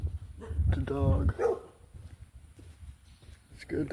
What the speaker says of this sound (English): It's good they got the dogs going.